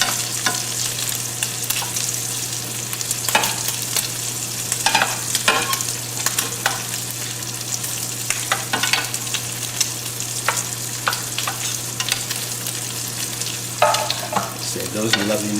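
Lamb chops fry in garlic-infused butter with a continuous sizzling hiss, punctuated by occasional clinks and scrapes of a utensil against the pan, close and steady with no voices.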